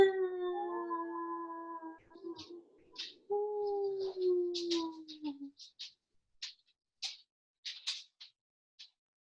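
Human voices howl in imitation of wolves, several long sliding tones overlapping and falling in pitch, followed by scattered short breathy sounds and quiet gaps, fairly soft and close.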